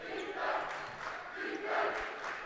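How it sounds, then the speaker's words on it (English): A high school basketball crowd for Beverly rises in a rhythmic two-beat defense chant, the loose mass of voices swelling twice at moderate distance inside a gym. "Beverly crowd noticing the urgency that they need to be playing with, giving a little defense chant here"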